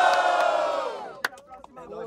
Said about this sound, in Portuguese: Barulho quem gostou das rimas de Magrão